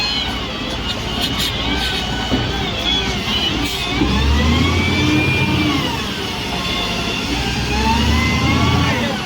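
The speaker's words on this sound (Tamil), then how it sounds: "வண்டி சின்னதாக தான் இருக்குது, ஆனால் இவ்வளோ மண்ணு ஃபுல்லாக இதில் தான் வாரி போடுறாங்க." Heavy diesel engine of an excavator working on a hillside, loading soil into a small lorry, rumbling and revving in swells with scraping and clattering over it; voices are heard.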